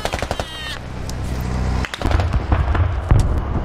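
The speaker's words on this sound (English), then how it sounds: "The mine had like a delayed explosion." A delayed mine explosion in the video game Squad goes off amid sharp bursts of gunfire and loud blasts, dense and close, with a low rumble following.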